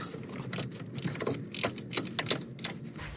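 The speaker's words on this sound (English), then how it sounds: "you're going to use a 10mm socket to now loosen the bolt to the brake hard line" A 10mm socket wrench loosens the bolt on a brake hard line of a Porsche 986, giving a series of quick close ratcheting clicks in short uneven bursts.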